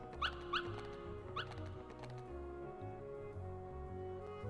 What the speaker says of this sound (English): Pongo and Perdita and puppies.